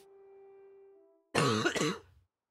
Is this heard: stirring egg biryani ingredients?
no